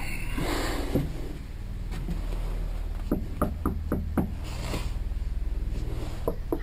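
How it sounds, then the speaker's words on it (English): Knocking at a door, a quick run of sharp raps in two clusters, close and fairly loud over a steady low hum. "Is he knocking?"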